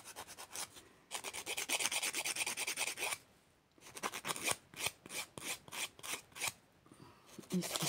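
A press-on nail is filed down hard and close, giving repeated rasping strokes in quick bursts with short pauses between them, close up and fairly loud, with no talking.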